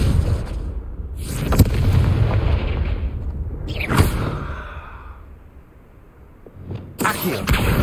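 Confringo blasting spell explosions in Hogwarts Legacy on PS5, loud booming blasts with a long rumbling tail, about three bursts spaced across the clip, with a quieter lull between them.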